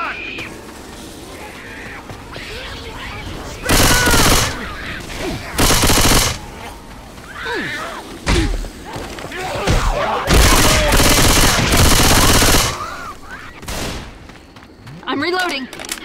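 Bursts of gunfire from Left 4 Dead 2 crack out in several loud volleys, some long and sustained, between quieter stretches where players talk over game ambience.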